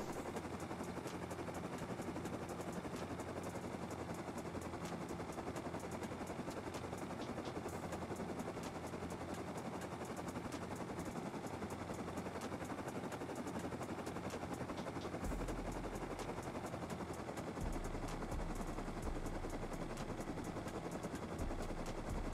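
A minicopter in the survival game Rust, flying in and setting down in front of an automated turret, its rotor chopping steadily and loudly throughout with a distinct low thump near the end.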